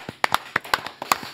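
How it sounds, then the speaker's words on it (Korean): Applause from a studio audience on a Korean talk show greets a former mayor of Ulsan, heard as a short burst of scattered, uneven claps that stay fairly quiet and close. "송철호 전 시장님 박수로 맞이합니다."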